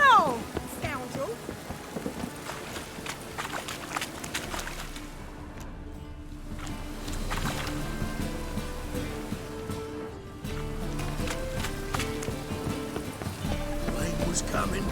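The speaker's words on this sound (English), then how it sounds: "Rain was coming." Rain falls steadily with rumbles of thunder in The Witcher game, with a stretch of clear rain and scattered sharper hits and effects under occasional voices.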